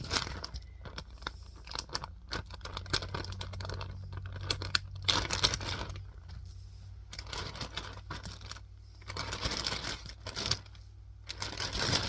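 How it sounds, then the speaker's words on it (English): Cooked bacon being broken up by hand into a gallon plastic bag, a run of crisp crunching and crinkling snaps with brief pauses, close and fairly quiet, no voices. "break these up and put them in this gallon bag"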